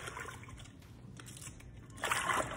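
Cabbage pieces broken apart and rinsed in water during home cooking, with faint trickling and sloshing that builds into a brighter, louder splashing wash near the end.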